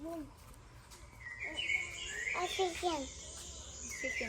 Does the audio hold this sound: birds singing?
yes